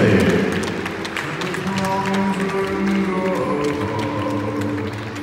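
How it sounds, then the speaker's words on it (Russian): Audience applause in a ballroom hall after a dance couple's presentation at an open dance competition, a steady dense clapping wash running throughout with crowd noise and music tones underneath. "ваши аплодисменты"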